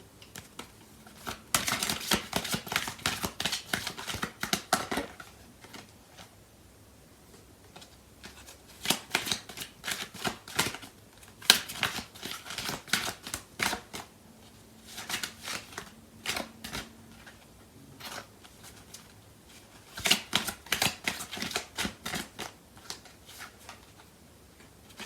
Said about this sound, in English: So I'm going to pull out some more cards.